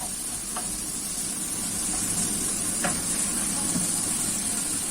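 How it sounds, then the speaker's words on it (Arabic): Fresh garlic sautéing with colored bell peppers and mushrooms in a pan, a steady soft sizzle and hiss throughout with a few faint stirring clicks, no talking. "نشوحهم بقى كده يا دوبك تشويحه بسيطه كده"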